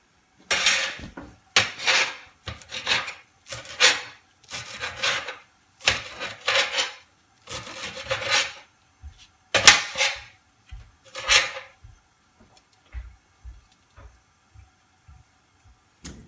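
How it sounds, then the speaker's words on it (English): A knife chops fresh cilantro on a cutting board for sofrito in a quick run of crisp, close strikes. The strokes come in bursts with short pauses, then thin out into a few lighter taps near the end. "I'm going to go ahead and chop a cup of cilantro that I'm going to add to it"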